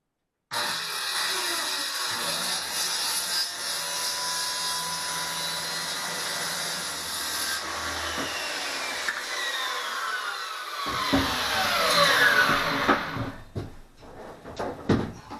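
A power tool trims fiberglass on a boat's settee top, giving a loud, continuous whining grind that shifts in pitch as it cuts. The grind turns rougher and broken near the end.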